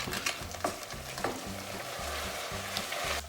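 A utensil scrapes and scrubs the bottom of a pan while livers and onion sizzle after being deglazed with brandy, giving repeated rhythmic scraping strokes over a steady frying hiss.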